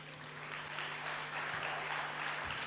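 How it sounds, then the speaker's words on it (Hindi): An audience at a cultural programme in Mount Abu applauds to welcome two girls who dance with 108 pots on their heads, a soft distant steady clapping with a low steady hum beneath. "तो लीजिए जोरदार तालियों से स्वागत कीजिए।"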